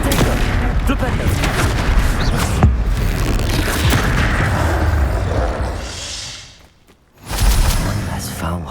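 Explosion spells cast in the Hogwarts Legacy video game during combat, a dense run of loud booming blasts and crackling impacts mixed with game effects, then a brief quiet before another burst.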